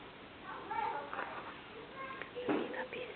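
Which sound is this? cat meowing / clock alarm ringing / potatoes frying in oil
cat meowing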